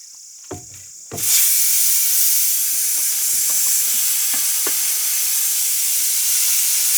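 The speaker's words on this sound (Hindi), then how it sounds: "बनकर तैयार हो चुके हैं, देखो उबल कर, और क्या मोटे मोटे छोले उबले हैं" Chickpeas (pindi chole) boiling in a pot at a forest car campsite in Uttarakhand give a steady, close bubbling hiss that starts abruptly and holds for about six seconds, with no talk.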